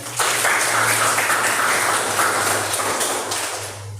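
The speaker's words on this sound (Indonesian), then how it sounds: "Ya, tepuk tangan." Schoolchildren applauding together in a classroom, a dense and fairly loud burst of clapping that holds steady throughout and eases off slightly at the end, with a low hum underneath.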